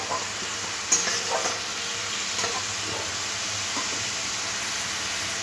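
Tomato and onion paste fries in a pan, a steady soft sizzle running throughout with occasional faint stirring scrapes, no voices.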